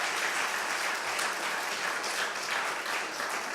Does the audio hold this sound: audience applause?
yes